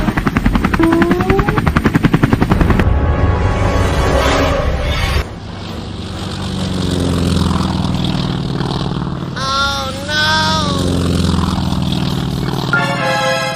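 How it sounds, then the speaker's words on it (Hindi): A cartoon helicopter's rotor chops rhythmically and loudly, its engine whining and droning steadily overhead with shifting pitch. "ये जैसन तो हेलीकॉप्टर पर बैठकर हमें मारने के लिए आ रहे हैं।"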